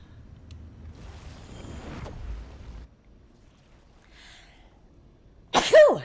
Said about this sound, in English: You gotta sneeze. And somebody's gonna tell you, bless you.